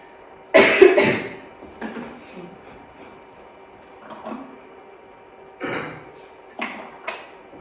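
A few scattered coughs, one loud burst near the start and softer ones later, with quiet pauses between, on a hot evening at an archaeological dig.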